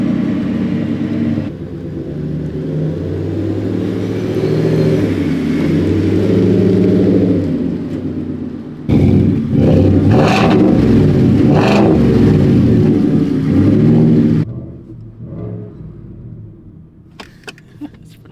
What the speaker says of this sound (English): This is going to sound pretty cool, this exhaust, I think.